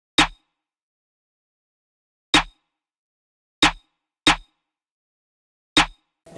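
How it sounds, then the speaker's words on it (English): Five sharp, dry snare hits land at uneven, swung intervals in a sparse UK drill pattern, each one a crisp isolated crack with silence in between. "I came up with a very simple drill snare pattern."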